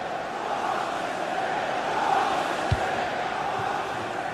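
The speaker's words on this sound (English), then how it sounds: "just listen to the noise in here. The fans are really getting behind them." A stadium crowd in a football video game roars and chants continuously, a dense, even wall of fan noise with one brief thump partway through.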